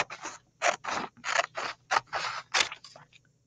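Scissors snip through a paper sheet in a quick series of about nine crisp cuts, close and clear with short pauses between strokes.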